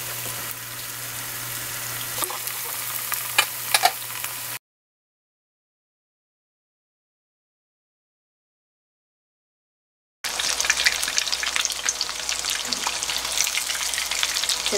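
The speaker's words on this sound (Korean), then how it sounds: "적당히 이렇게 자글자글 끓는 걸 유지해 주시면 돼요" Pork cutlet sauce bubbles and sizzles gently in a pan over low heat, a soft crackling simmer that drops out to silence midway before resuming more brightly.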